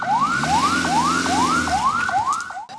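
An ambulance siren from a TV drama wails loud and close in a steady repeating rising sweep, about seven cycles, with a low engine-like hum beneath and no talk.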